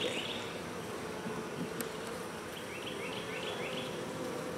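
Honey bees drone in a steady, dense buzz from an opened hive, close and continuous, with individual bees flying nearer at moments and no talking.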